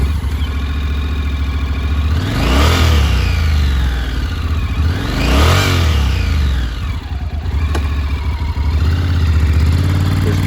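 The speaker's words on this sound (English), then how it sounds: "Push the button and turn the throttle." A used 2023 Honda NC750X DCT motorcycle with automatic transmission idles close by, then revs up sharply twice, each rise and fall clearly rising in pitch before settling back to a steady idle.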